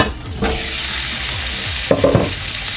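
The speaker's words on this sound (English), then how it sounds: "this onion's going to cook for about 5 minutes or so to really kind of start opening up and really being aromatic" Onion cooking in a one-pot dish with garlic mushrooms, a steady sizzle fills the pot and a couple of brief stirring clatters come near the end, with no voices.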